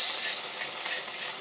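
Butter sizzling in a hot skillet, a steady bright hiss that holds evenly throughout with no talking.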